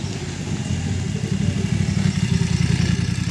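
A superbike engine revving under throttle, a steady, loud, close mechanical drone with rhythmic pulsing that builds slightly, and no voices heard.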